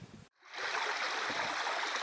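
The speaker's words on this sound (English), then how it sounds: "I've decided to stop by this stream now" A small stream flows with a steady broadband rush and gurgle, close and continuous, heard during a wild camp; a brief rustle precedes it.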